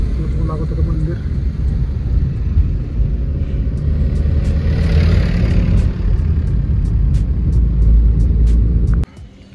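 A car engine rumbles steadily as the vehicle drives up and parks near the Prati Balaji temple at Ketkavale near Satara, then cuts off abruptly at the very end, leaving near silence.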